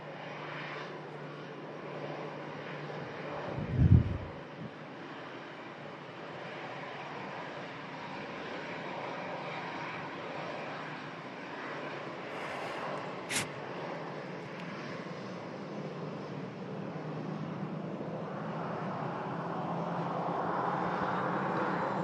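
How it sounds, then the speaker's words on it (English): A Qatar Airways airliner inbound from Doha makes its final approach and touchdown at Manchester Airport in stormy weather, a steady broad roar of engines and wind that swells toward the end, with a brief thump early on. "Final couple of 100 feet now for the Qatar. Enjoy this touchdown, ladies and gentlemen."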